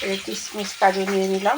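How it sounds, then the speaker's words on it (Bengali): Pointed gourd (potol) sizzling in a pan for patal dalna, with cashews and raisins close by, a steady soft frying hiss under someone talking. "এদিকে ভাজা হচ্ছে পটলটা"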